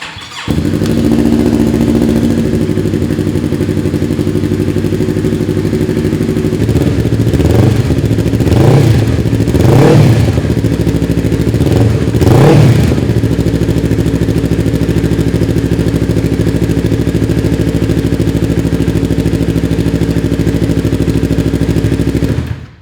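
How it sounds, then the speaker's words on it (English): A Yamaha R3 sportbike engine runs loud and close, settling into a steady warm-up idle with a few short revs partway through, fitted with new NGK spark plugs. "So we'll start the bike, we'll let it, warm up, go through a temperature cycle"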